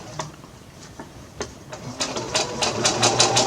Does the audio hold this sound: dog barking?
no